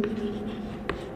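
Pen writing on paper during a math lesson on complex numbers, a close, continuous scratchy stroke with a brief tap near the end over a faint steady hum.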